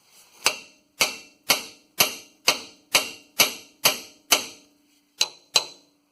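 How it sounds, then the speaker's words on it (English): Ten sharp metallic hammer taps strike a stuck upper control arm on a 2008 Ford F-150's suspension at a steady pace, each with a short ringing decay, a brief pause before the final two strikes. "we'll get a hammer and we'll just give her a good tap right here"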